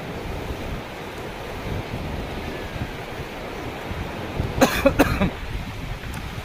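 Floodwater rushing past a bridge near Dhanora Kale in Parbhani district during a major flood, a steady broad roar with wind buffeting the microphone, and a brief cluster of louder splashes or knocks near the end.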